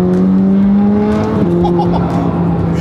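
A McLaren supercar accelerates with a loud rising engine note heard from inside the cabin, the pitch climbing and then dropping at a gear change before climbing again.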